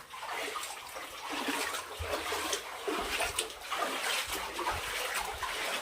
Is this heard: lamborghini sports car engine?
no